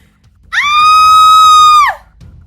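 A woman lets out a single sustained high scream in an audio drama, loud and close, rising sharply, holding steady for over a second, then dropping off.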